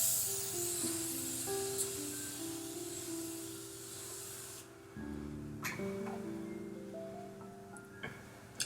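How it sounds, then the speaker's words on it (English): A Morphe Continuous Setting Spray bottle hisses in a long continuous mist, then gives a couple of short spritzes, with soft music playing underneath. "I'm gonna set my face with the Morphe Continuous Setting Spray."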